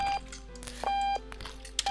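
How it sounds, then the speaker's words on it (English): An alarm in the video game Octodad beeps loudly in short repeated tones, each steady tone broken by brief gaps amid faint clatter. "turn off this alarm because it is quite loud"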